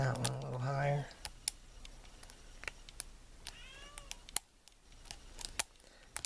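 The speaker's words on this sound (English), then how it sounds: "My silly cat wants it in the shop again. It's gonna make noise and noise and noise" Pet cat meowing in a workshop, a few drawn-out meows close by at the start, then faint repeated mews among light clicks, taps and rustling from lock-picking work.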